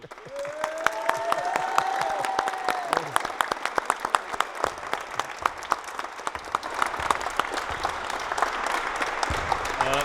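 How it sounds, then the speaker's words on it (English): Audience at the end of a two-hour basketball shooting skills camp breaks into steady, dense applause with scattered sharp claps and some cheering voices, sustained loud throughout. "Give Pedro the biggest applause he has ever achieved."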